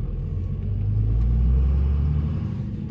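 Car with a manual transmission and a single-disc clutch, fitted with a South Bend clutch, driving down a road, a steady low engine rumble that swells slightly as it pulls along, close and continuous with no talking.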